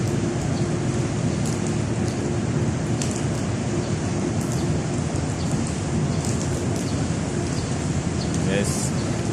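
Steady rain hisses continuously across the whole stretch, a dense even wash of sound with occasional louder drips and patters.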